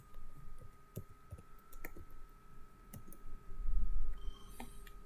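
Sharp computer mouse clicks and keyboard key presses while working in 3D polygon modeling software, a few separate clicks spread through a quiet room, close and fairly faint.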